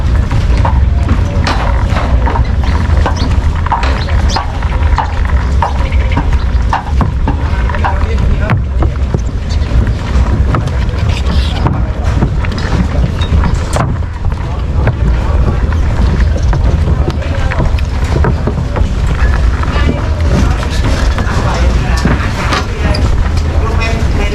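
A boat carries passengers on the Mekong River between Thailand and Laos, near a stupa standing mid-river; a steady engine and water rumble is buffeted by wind while people talk over it.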